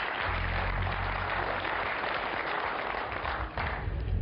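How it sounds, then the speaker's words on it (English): Applause from an audience honoring an angler and his 48-inch muskie, a steady dense wash of clapping that fills the moment on its own, with no talk over it. "a round of applause for Mike and his muskie"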